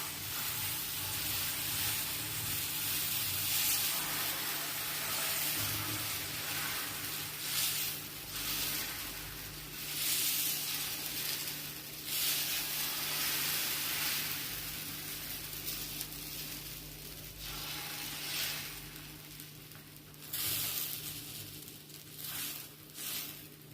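Oil sizzles and hisses steadily in a pan on a gas stove while dal-rice batter is cooked, a continuous broadband fry noise with small crackles and occasional stirring shifts, close by with no talking.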